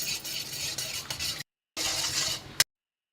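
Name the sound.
beaten egg being scrambled in hot oil in a pan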